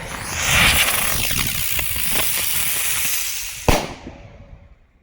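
Flying Banger CLE3544 butterfly firecrackers burst outdoors in a loud crackling, hissing rush, followed by one sharp bang that fades into a trailing hiss.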